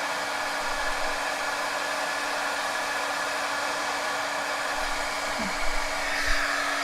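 An embossing heat tool blows steadily and evenly from start to finish, aimed at the back of a card to melt embossing powder. The whir is loud and close, and nobody speaks over it.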